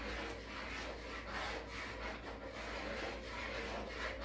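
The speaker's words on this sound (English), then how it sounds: "I'm gonna stir it and see." A spoon works through lumpy Jamaican cornmeal pudding in a pot, producing a continuous, close scraping and rubbing sound with a loose, rhythmic stirring pulse.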